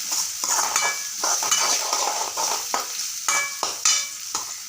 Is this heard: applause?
no